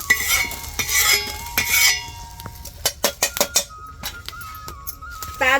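Coriander seeds and chillies roasting in a pan for a vegetarian dish, heard as a run of sharp scraping and stirring clicks of a utensil against the pan with a light sizzle underneath, and a brief whistle-like tone near the end.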